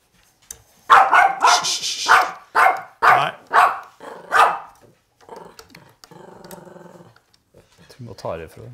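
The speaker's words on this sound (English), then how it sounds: "This is our happy growl." A dog barks and growls playfully while tugging at a toy, loud close rhythmic barks giving way to a low sustained growl, with a person speaking in between.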